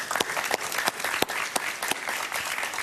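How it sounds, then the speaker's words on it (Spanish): Studio audience at a Spanish-language television talk show in Miami applauds a guest. The clapping is dense and steady, with a few sharper claps standing out, and no voices are heard. "Un aplauso para él,"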